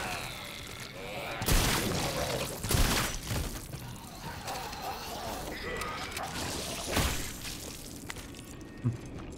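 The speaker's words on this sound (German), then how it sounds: "Drei Schüsse verbraucht" Several gunshots ring out in the sci-fi horror game The Callisto Protocol, sharp bangs spaced a few seconds apart over a dark ambient backdrop, with a player talking throughout.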